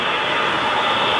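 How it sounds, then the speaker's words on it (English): Model trains circle the tracks at a model railroad museum, producing a continuous rumbling rail noise that stays steady and moderately loud throughout the brief moment. "trains going around the tracks"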